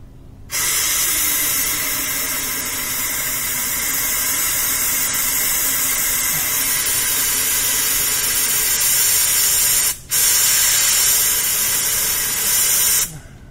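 Compressed air blasting back through a drained intercooler on a hydrolocked VW B5 TDI, a loud continuous hiss that holds for several seconds, cuts out briefly, then resumes.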